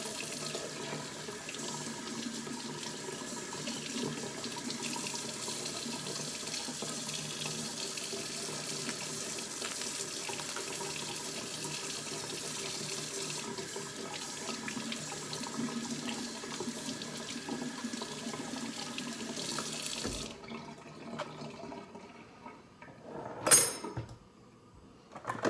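Tap water runs steadily into a kitchen sink while oxtails are rinsed, a continuous close splashing wash that stops abruptly near the end, followed by a few brief clatters.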